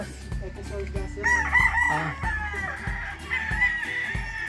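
Gamefowl roosters crow at a game farm, with several loud, nearby crows overlapping and clucking and other fowl noise underneath.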